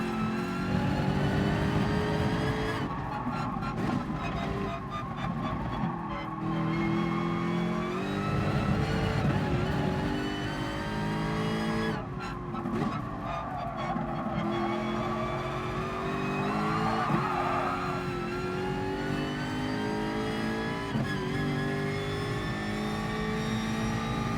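A Ferrari F50 race car in the GT Sport racing game revs hard and shifts gears repeatedly, its engine note climbing and dropping over about 24 seconds with brief tire squeal, loud and continuous.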